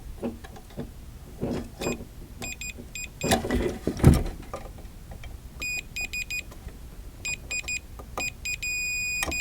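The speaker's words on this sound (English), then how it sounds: "I'm going to put my meter on continuity beep" A multimeter set to continuity sounds short electronic beeps while being touched to terminals on an arcade control panel. Bursts of beeps come in quick groups, ending in a longer sustained tone, amid the clatter of handling parts.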